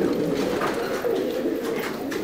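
Pigeons cooing in a breeding loft, soft low throaty coos rolling on continuously at close range against a busy bird-filled background, with no talk.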